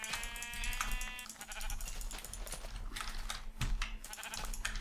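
Sheep in the Minecraft video game bleat a few times, a short wavering cry near the start followed by further faint bleats under a busy game soundscape.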